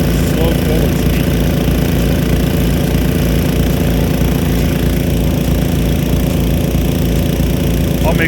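Nelson PC-NV100 2-inch fast-reverse Big Gun sprinkler with a .70-inch taper bore nozzle running in slow forward, a loud, steady, rapid mechanical pulsing drone that holds constant throughout.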